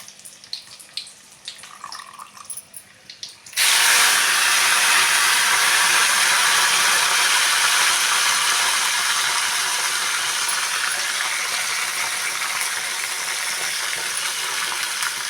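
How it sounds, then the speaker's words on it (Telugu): Gunta kalagara greens dropped into hot oil, a sudden loud burst of sizzling after a few quiet seconds of small kitchen clatter, then a sustained close frying hiss to the end. "ఇదైతే బాగా నూనెలో అయితే వేగనివ్వాలండి"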